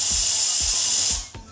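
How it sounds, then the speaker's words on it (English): Air blowgun spraying excess talcum powder out of a dirt bike inner tube, a loud, close, steady hiss with faint rhythmic clicks beneath it that cuts off abruptly near the end. "then I just take a blowgun or whatever"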